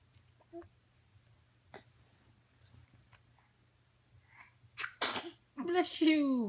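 A baby sneezes once, a sharp, close burst following some faint small noises in a quiet room, and an adult voice speaks right after.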